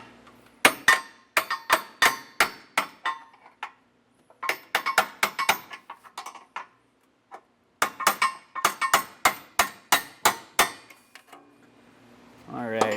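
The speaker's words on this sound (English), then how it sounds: "you can take your hammer and kind of just pop it the rest of the way" Hammer tapping trailer hitch hardware into place under a 2023 Hyundai Palisade, sharp metallic strikes in three quick rhythmic volleys with brief pauses between, close and loud.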